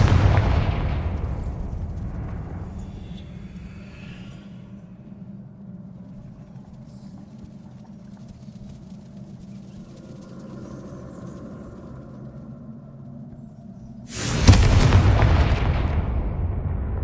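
Explosive spell blasts in the video game Hogwarts Legacy: a heavy boom that rumbles and decays slowly over several seconds, a quieter stretch of low ambience, then a second loud blast with a sustained roar.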